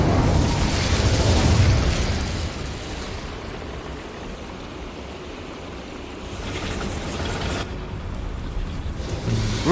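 A fire spell blast from Hogwarts Legacy: a broad, roaring whoosh swelling near the start, settling into a sustained rushing rumble, then flaring again toward the end.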